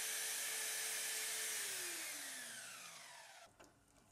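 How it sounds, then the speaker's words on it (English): A bandsaw rough cuts brass bar stock to length, a loud steady whining cut that holds, then drops in pitch as the blade slows and winds down, ending with a brief clunk. "Then I can rough cut these pieces to length on the bandsaw."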